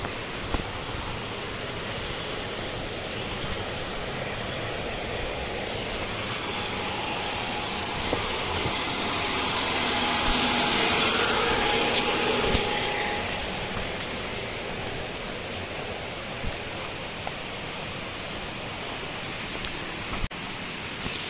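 Ermayi Falls roars as a steady, broadband rush of falling water, close and continuous, swelling slightly in the middle with no voices over it.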